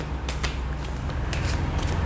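Tarot cards being shuffled by hand, with soft riffling bursts and clicks repeating in quick succession over a low steady hum, close and moderately quiet.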